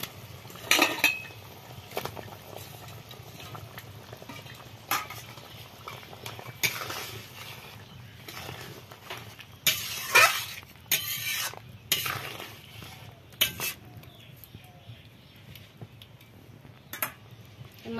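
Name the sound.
fried tangra river fish simmering in mustard curry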